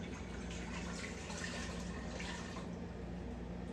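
Four cups of water pour steadily into a cooking pot for a cherry canning syrup, a close, continuous splashing rush that eases slightly toward the end.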